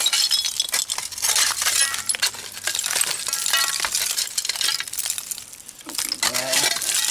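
Old glass bottles clink and scrape against one another while being dug out of a dump full of smashed glass, with dense, continuous rattling and chinking close by.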